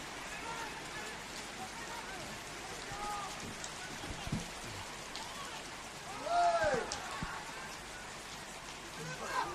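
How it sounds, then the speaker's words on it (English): Rain falls steadily over an outdoor soccer ground during a night league match, a constant hiss. Crowd murmur and faint whistles blend into it, and a brief swell of noise rises later. "the rain continues at George Andrews"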